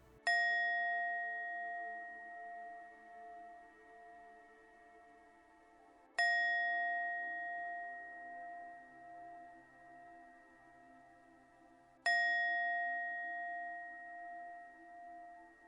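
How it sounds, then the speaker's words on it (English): Three sustained bell chimes ring out at even intervals about six seconds apart, each struck cleanly and then slowly decaying into a soft shimmer before the next, calm and alone with no voices, used to clear a space. "You'll hear 3 chimes starting now."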